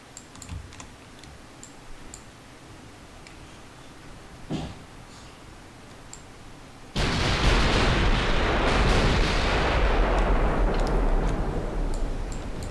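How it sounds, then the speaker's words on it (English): Warship main gun turrets firing in Ultimate Admiral: Dreadnoughts, three forward turrets going off together in a naval fleet battle; after quiet clicking, a loud sustained roar of gunfire and rumble erupts and holds steady to the end. "Okay, not the rear turret, but the front 3 are all firing."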